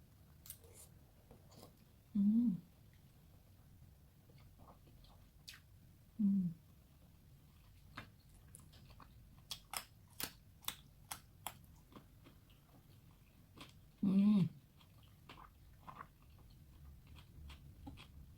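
Sushi being bitten and chewed up close for ASMR, with a few distinct crunchy bites spaced seconds apart and soft wet mouth sounds and small clicks between them, over a faint background hiss.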